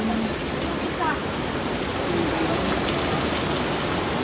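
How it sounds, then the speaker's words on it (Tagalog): Heavy rain pours steadily on a farm in a dense, continuous hiss, with faint voices murmuring underneath. "Malakas pa ang ulan ngayon."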